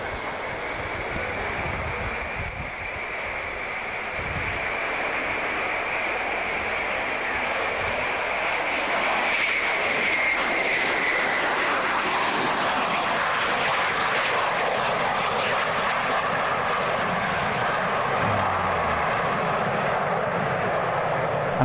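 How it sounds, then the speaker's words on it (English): Concorde jet aircraft at the Leicester Airshow, a steady, broad engine roar that swells slightly midway and holds loud throughout, with faint voices in the background. "we've got another clip of Concorde, this time at the Leicester Airshow."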